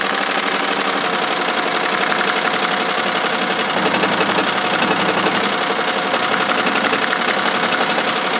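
Steady, fast mechanical chatter of an embroidery machine stitching a Christmas stocking at about 700 RPM with a ballpoint needle, loud, close and unbroken with no talk.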